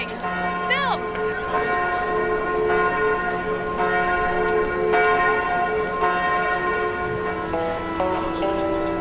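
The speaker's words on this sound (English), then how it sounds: "The bells are going." Notre Dame's church bells peal continuously, with layered ringing tones sustained through the whole stretch over a busy outdoor crowd, with people talking nearby.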